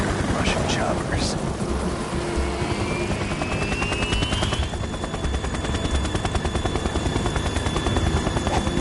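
Russian helicopters in the video game Metal Gear Solid 2 produce a loud, continuous rotor thrum mixed with heavy gunfire, rumbling rain and storm noise, while voices speak faintly beneath the din.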